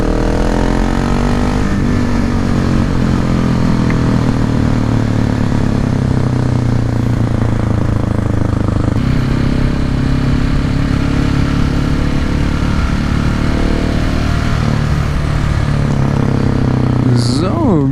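A Husqvarna 701 Supermoto motorcycle fitted with an SC Project exhaust runs loud and close, its steady engine note rising and falling through revs for the whole stretch, with a shift or throttle change midway.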